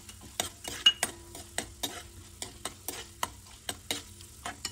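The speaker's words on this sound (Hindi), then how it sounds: "अब इसमें उड़द के मोगर के दाने क्रिस्पी करेंगे इसको, और काजू भी फ्राई कर लेंगे।" Urad dal pieces and cashews fry in oil in a pan with a quiet, close sizzle, broken by many sharp, rhythmic taps and scrapes as a spoon stirs them.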